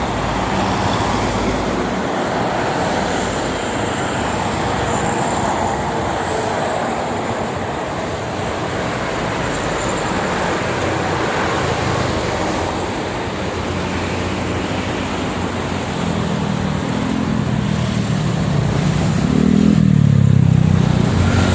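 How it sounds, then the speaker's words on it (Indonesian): Dense morning traffic dominated by heavy logistics trucks on the Jakarta-Cikampek toll road, a steady broadband roar of tires and engines with a deeper truck engine swelling louder near the end. "Banyak sekali truk-truk logistik."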